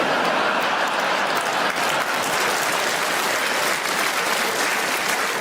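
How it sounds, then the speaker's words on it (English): A comedy club audience applauds a stand-up comedian, a thick, even roar of clapping from a large crowd that stays loud and unbroken from start to finish. "Don't clap!"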